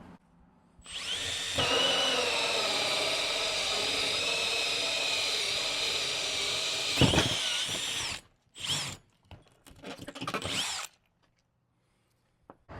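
A drill fitted with a 1 1/2 inch HYCHIKA hole saw on a 3/4 mandrel whines loud and close for about seven seconds, then stops and restarts in a few shorter bursts.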